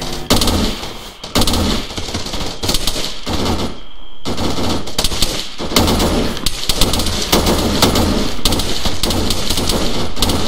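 Sustained bursts of machine-gun and rifle fire in a military game, loud and near, rattling almost continuously with only a short lull around the middle.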